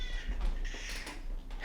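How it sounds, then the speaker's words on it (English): A house cat meows insistently at close range, a couple of drawn-out, whiny calls standing out over a steady low background hum. "I don't know why he's meowing at me."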